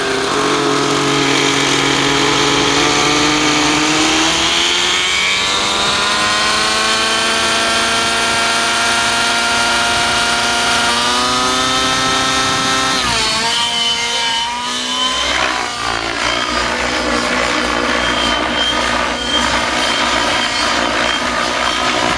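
An RC helicopter engine fitted with a GP-Exhaust tuned pipe drones loudly at close range, its pitch climbing and dipping as the throttle changes during flight, with no talk over it.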